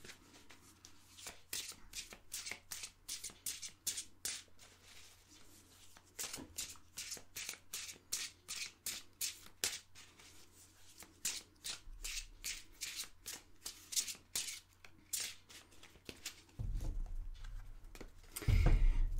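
Tarot cards are shuffled in repeated crisp riffling bursts, close and fairly quiet, with brief pauses between runs and a soft thump of handling near the end.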